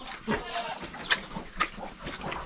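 Pigs on a farm grunt and oink in short, irregular bursts at close range, with other faint farmyard sounds mixed in.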